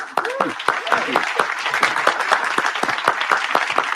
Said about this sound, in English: Please continue your applause for all the students who have contributed to our wonderful display of pride.